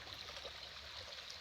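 A wide, clear river flowing past rural property, giving a steady, continuous broadband rush of moving water with a soft hiss and gurgle, fairly close and even in level throughout, with no voices.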